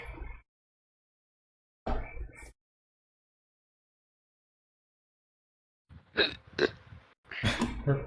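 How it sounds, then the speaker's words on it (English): A person burps in two short, close bursts separated by a pause, followed after a long silence by louder, rougher vocal sounds. "first a stirring, then a burp."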